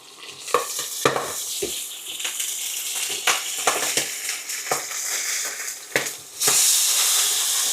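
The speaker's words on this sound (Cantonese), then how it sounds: "煎佢3分鐘，咁再反" A homemade beef burger patty fries in a covered pan, giving a steady loud sizzle with crackling pops and scraping as the lid and patty are handled, the hiss swelling sharply near the end.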